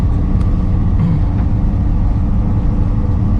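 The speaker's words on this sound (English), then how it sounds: "here we are tooling down the road in our old International here" An old International vehicle drives down the road with a steady, loud, low engine rumble and road roar, continuous and close from inside the cab.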